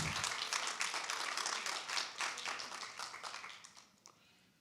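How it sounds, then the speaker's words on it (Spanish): Church congregation applauding during a Bible institute class, a dense burst of clapping from many hands that fades out over a few seconds, fairly distant and soft. "Denle un aplauso al Señor"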